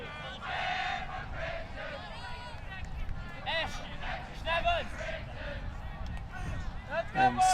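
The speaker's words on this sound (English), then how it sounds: "And chanting from GB. Good cheer from the crowd." A crowd at an Australia versus Great Britain mixed match chants and cheers for Great Britain, a mass of voices with rising shouts and whoops throughout, loud and reverberant like a packed arena.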